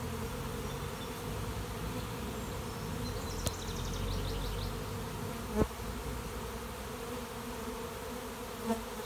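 A honey bee swarm hums steadily as it marches into a hive box in a late-season swarm, a dense continuous buzz with a few brief clicks and knocks near the hive.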